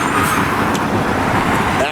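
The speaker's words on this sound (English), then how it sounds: "So you got a few vehicles here." Traffic rolls by on an almost empty Los Angeles street during the 2020 COVID-19 stay-at-home period. A brief steady wash of road noise from a few vehicles passing nearby is heard.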